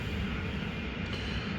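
An N scale Milwaukee Road model train runs on a layout, making a steady, close rail rumble and clatter that continues throughout with no talking.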